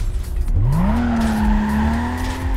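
Tires squeal in a long, rising then steady whine as a car drifts in Need for Speed Carbon, the skid holding loud over a rumbling engine from about half a second to the end.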